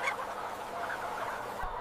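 Chickens cluck on a chicken farm raising birds for a fried-chicken supply chain, a steady murmur of many fowl overlapping at moderate volume with no distinct single call and no talk.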